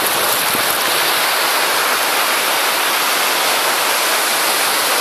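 Pacific Ocean surf at San Diego gives a dense, loud, unbroken wash of breaking waves that fills the whole clip with steady roaring hiss and no voices.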